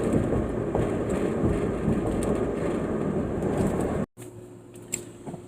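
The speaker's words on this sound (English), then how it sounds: "if you can hear it, the exhaust decided to give way." A 1991 Nissan Maxima SE with a 5-speed and a broken exhaust, driving with a loud, steady, rumbling drone that cuts out abruptly near the end, leaving a quieter hum.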